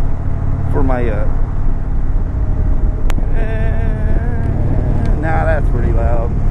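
A 2019 Indian Chieftain Dark Horse motorcycle engine drones loudly and steadily while being ridden, with heavy wind rush over the microphone and a rider talking over it.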